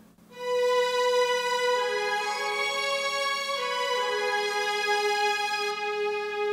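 Smooth legato violins carry a sustained melody, two lines moving together an octave apart, held notes changing slowly and evenly.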